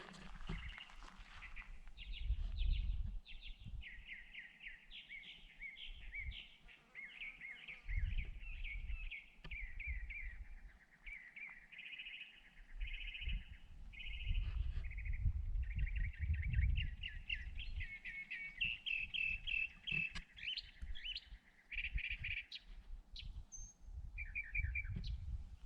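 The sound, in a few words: bird calling from top of cactus in desert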